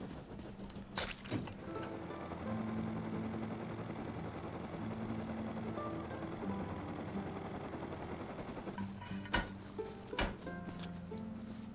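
A helicopter in the video game Rust gives a steady whirring drone throughout, fairly faint. Sharp thumps and crashes hit near the start and again near the end.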